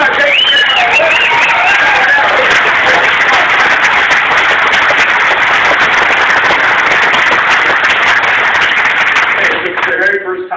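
Dense, loud round of applause fills a hall at a political talk in Janesville, Wisconsin, sustained crowd clapping with a voice audible briefly over it at the start and end.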